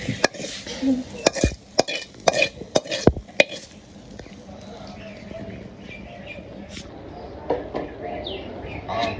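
Jute leaves (pat shak) being stirred and fried in a pan, with sharp scraping clicks of the utensil against the metal over a soft sizzle and faint background noise.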